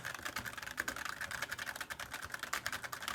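Typing on an ASUS ROG Strix Scope RX TKL Wireless mechanical keyboard, a steady run of quick, close key clicks with no talking over it.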